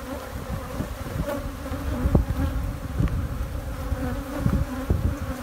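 Honey bees in a hive built inside a wall make a dense, steady buzzing drone with individual bees zipping past, close and continuous throughout.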